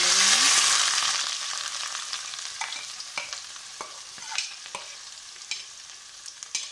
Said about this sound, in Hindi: प्याज को अच्छी तरह फ्राई करेंगे